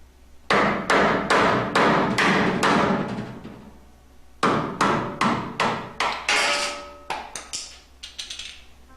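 A screwdriver is driven against the rear seal of a 4L60 automatic transmission's extension housing to break it loose. Sharp metallic blows land close by in two rapid runs of about seven strikes each, followed by lighter, ringing taps.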